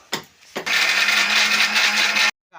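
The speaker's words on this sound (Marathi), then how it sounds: "हे बघा मिक्सरचे भांडे थोडं पाणी ओतलेलं आहे आईने आता बारीक करून घेणार आहे" A mixer grinder whirs loudly at close range, grinding peanuts and green chillies with a little water; brief clicks precede a steady two-second roaring run before it cuts off abruptly.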